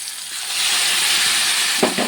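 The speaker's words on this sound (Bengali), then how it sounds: "ভালো করে নেড়ে কষিয়ে নেবো মশলাটার সঙ্গে ইঁচড় আর আলু" Masala with jackfruit and potato fries in a kadai, a loud close sizzling hiss that swells and holds steady, with a couple of stirring scrapes near the end.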